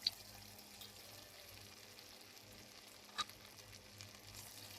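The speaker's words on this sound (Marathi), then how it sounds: "गॅसवरती कढई ठेवून घेतलेली आहे, त्यामध्ये तेल टाकले. तर आपण आता हे तळून घेऊया." Marinated chicken 65 pieces fry in hot oil in a kadhai over a gas flame, giving a faint, steady sizzle with a couple of brief louder pops, with no talk.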